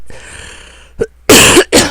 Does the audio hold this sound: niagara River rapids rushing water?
no